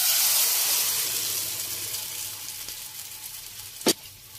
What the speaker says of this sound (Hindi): और इसे हमें साथ साथ बिल्कुल अच्छी तरह चलाना है कि इसमें बिल्कुल भी गुठलियां ना बने